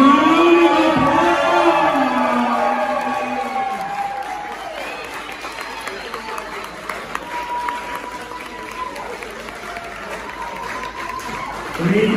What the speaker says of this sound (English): Everybody, round of